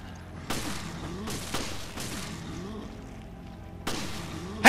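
Gunshots in Resident Evil Revelations: four sharp, separated shots ring out over a low ambient game background, with a quiet voice-like murmur in between.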